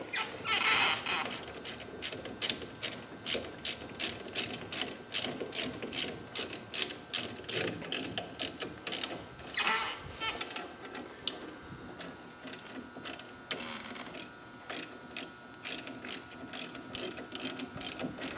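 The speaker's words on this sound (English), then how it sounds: "torque wrench on, and we will see if we can even get the torque wrench to clear" A torque wrench ratchets on the front brake caliper bolts of a 2008 Pontiac G5, with rapid bursts of close, crisp clicking separated by short pauses and some metallic handling noise.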